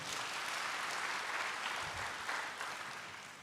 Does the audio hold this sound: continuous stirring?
no